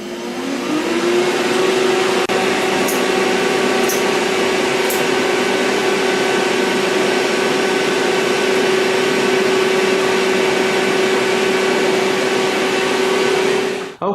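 A Robinair 34288 R134A A/C recovery machine runs loud and steady at close range for the whole stretch, its motor humming with a constant whine while clearing the lines.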